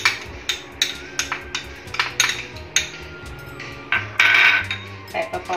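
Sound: mixing chopped onion and spices in a bowl

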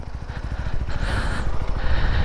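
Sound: SR250 motorcycle moving off as the clutch is released

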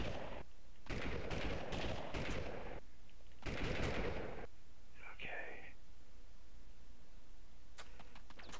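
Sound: machine gun fire in Army Men 3D video game

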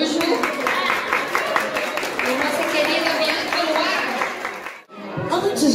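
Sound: applause for performer Arthur Araújo

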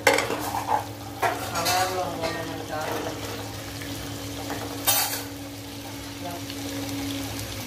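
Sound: stirring potato and fenugreek sabzi in a pan

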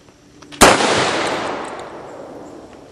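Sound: airsoft BFG grenade fired with 12 gauge load

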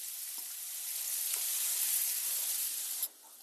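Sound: diced onion sizzling in butter in pan

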